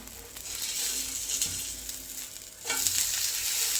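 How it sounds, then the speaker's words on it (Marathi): Jowar flour dhirde frying in oil on a pan, a close and continuous sizzle that swells louder partway through, with a few faint scrapes. "आता दोन्ही साईड छान भाजून घ्यायच्या"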